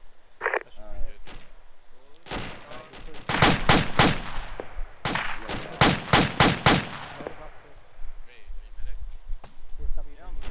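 Bursts of simulated rifle and machine-gun fire in an ArmA ShackTac operation crack out in quick volleys, two dense clusters of sharp shots mid-clip amid scattered single reports, with players talking over radio chatter throughout.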